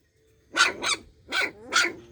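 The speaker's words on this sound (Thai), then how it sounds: "แม่เสียงเห่า" A stray mother dog that recently gave birth to a litter gives four sharp, close barks in quick succession, two rapid ones, then a pause, then two more, against otherwise quiet surroundings.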